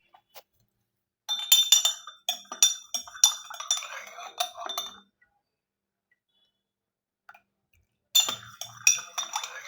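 Homemade hair oil being mixed after vitamin is poured in, heard as bright clinking and tapping of a utensil against a container in quick irregular bursts, a long silent pause, then another burst of clinks.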